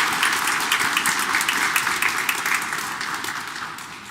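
Sustained applause from a congregation at an Easter Sunday Mass in a Korean Catholic church in Detroit, steady dense clapping filling the room throughout with no talk over it.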